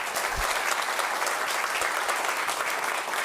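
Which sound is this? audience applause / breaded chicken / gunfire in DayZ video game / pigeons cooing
audience applause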